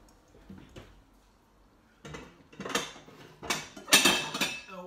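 Mushroom and parmesan pasta is moved from a pan into a bowl. Close, intermittent metallic clinks and scrapes of the pan and utensils grow busier and louder toward the end, with no talking.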